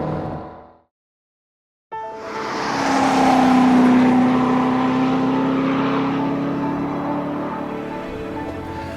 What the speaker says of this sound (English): you're throwing the car hard into the turn when the Z06 really comes to life